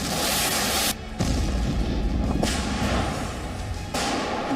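Heavy booming explosions in a Ukraine war zone, a dense rumbling roar broken by several abrupt cuts, loud and continuous with no voices.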